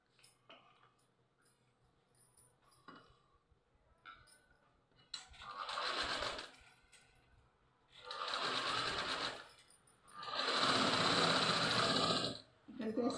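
A sewing machine stitching a zero-size frock whirs in three loud, steady runs, each a few seconds long, separated by quieter pauses with soft handling sounds and some talking.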